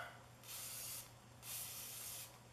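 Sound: WD-40 degreaser being sprayed

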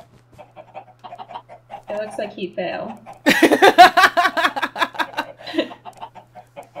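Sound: chickens clucking in a video game

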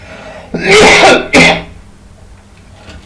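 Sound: cough and throat clearing

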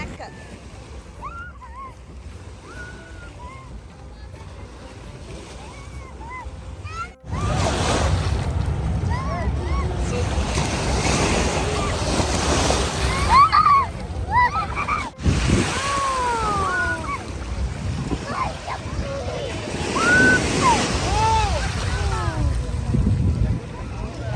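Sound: ocean waves at a beach

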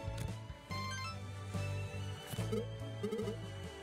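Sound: phone ringing in video game Dodgeball Academia

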